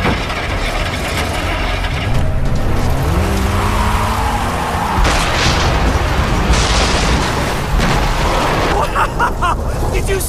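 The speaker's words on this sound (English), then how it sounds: "Did you see that explosion?" A loud, sustained explosion roars in the Far Cry 3 video game, with broadband rumble and crackling debris lasting several seconds amid vehicle and mechanical noise, with voices talking over it.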